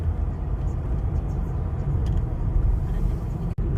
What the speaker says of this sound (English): I'm driving an e-car.